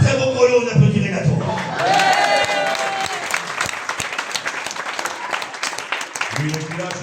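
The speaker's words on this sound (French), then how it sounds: "on applaudit Renato" A crowd gives Renato a round of applause after his bell performance, loud, busy clapping mixed with voices and some sung or tonal sound at the start and end.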